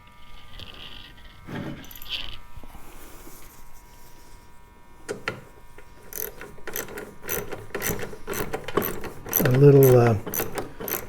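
A small socket set ratchets plastic screws on a Husqvarna AWD push mower during belt work, with rapid close clicking bursts that grow busier toward the end; someone speaks briefly.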